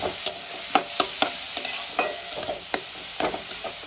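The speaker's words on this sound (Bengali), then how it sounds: "আমি লো টু মিডিয়াম ফ্লেমে ব্রাউন করে পেঁয়াজটা ভেজে নেব" Onion browning in a pan over low to medium flame, a steady close sizzle with rhythmic spatula scrapes and taps about twice a second, no voices.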